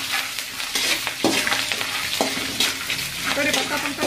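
Curry leaves crackling and sizzling in hot oil in a pan for a puffed-rice chivda, with repeated stirring scrapes over a loud, close, continuous fry.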